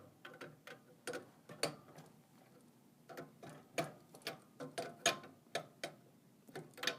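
Close metallic clicks and ratcheting ticks come from a crescent wrench unscrewing the vacuum relief valve on an Expobar espresso machine, in irregular bursts of sharp taps with short pauses.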